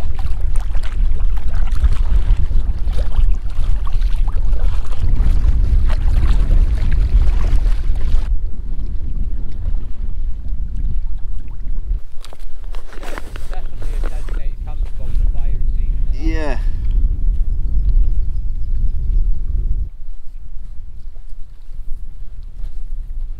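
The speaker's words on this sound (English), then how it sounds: "Got a bit of a headwind." A headwind buffets a microphone with loud, continuous roaring gusts while someone paddles a packraft on a lake. The wind drops out briefly midway, then returns strongly.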